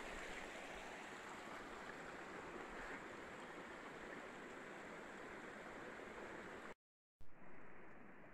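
Seneca Creek in Monongahela National Forest flows in a steady, close, full rush of water. The sound holds evenly throughout, then cuts out briefly near the end and returns.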